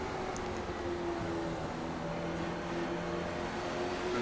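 A short track race car engine, heard from an in-car view, holds a steady, loud drone as the driver eases off the throttle while exiting a corner, with no voices present.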